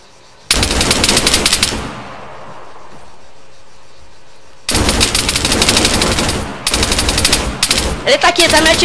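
Loud bursts of rapid automatic gunfire in the video game Arma 3 in two main volleys separated by a quieter gap, ending with scattered shots.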